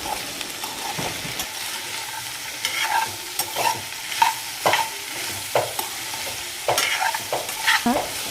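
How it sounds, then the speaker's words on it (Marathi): Okra stir-fried over a high flame for a Kolhapuri-style bhendi bhaji, with a steady close sizzle broken by repeated scraping and clacking strokes of a spatula in the pan. "ही सारखी हलवावी लागते आणि थोडी हाय फ्लेमवर तुम्ही याला परतवत राहा"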